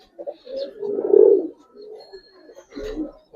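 A pair of Giribaz colouring pigeons coo in soft throaty bursts, one fuller rolling coo in the middle among shorter murmurs, close by and otherwise quiet.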